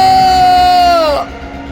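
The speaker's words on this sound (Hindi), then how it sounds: "ये देखकर मयंक के मुंह से चीख निकल पड़ी" A loud, sustained high-pitched scream for a horror story, one piercing cry that holds steady, slides down in pitch and breaks off abruptly, followed by quieter residue.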